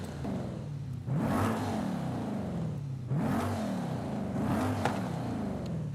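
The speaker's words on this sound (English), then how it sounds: "So this is the stock exhaust, pretty muffled because, you know, we have turbos and a big exhaust." Turbocharged car engine with muffled stock exhaust in Forza Horizon 5, revving up repeatedly in three rising sweeps with a steady idle hum between them, no talk.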